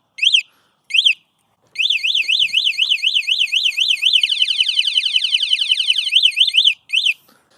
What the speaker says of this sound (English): But this alarm is incredibly loud, as I'll just show you quickly here